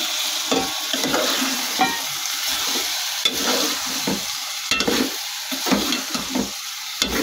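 Boiled meat sizzles and fries in a pan with ginger-garlic paste while being stirred, a steady close crackle broken by repeated scraping strokes of a spoon, with no talking.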